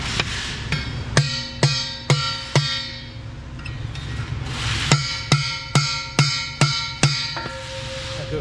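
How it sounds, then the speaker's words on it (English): A small hammer tapping a metal part of a Caterpillar D10R final drive during a rebuild, about a dozen sharp ringing strikes in uneven bursts, close and loud in a quiet workshop. "I'll go ahead and I'll take our smaller hammer."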